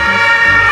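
A toy ambulance siren wails steadily and loudly in a brief, continuous electronic tone.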